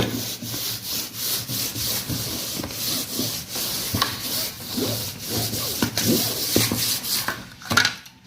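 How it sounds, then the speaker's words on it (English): Cake snippers trim the edges of a floral wedding cake in a series of soft, close rubbing and scraping strokes with small clicks, repeated steadily throughout with no voices. "So I'm going to go around again with my 2 snippers."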